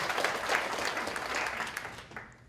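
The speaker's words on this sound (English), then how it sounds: "you can clap for them, that's fine." A conference audience breaks into dense, sustained applause from many hands, fairly loud and even, tapering slightly at the end, with no talking over it.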